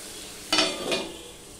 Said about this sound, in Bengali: দিয়ে আলু পেঁয়াজের সাথে আমি ভালো করে ভেজে নেব